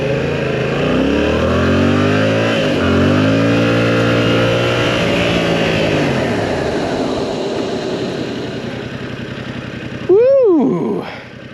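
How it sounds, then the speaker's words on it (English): A Yamaha R7 motorcycle launches hard on a private road, its engine note climbing steadily through the revs, loud and close with rushing wind, then a brief sharp sweeping sound near the end. "I'm going to do a little bit of a launch to see how quickly we get up to speed."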